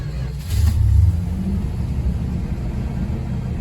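A 1966 Chrysler's engine, fitted with a choke, cranks and catches around the half-second mark, then settles into a steady low idle rumble that continues to the end.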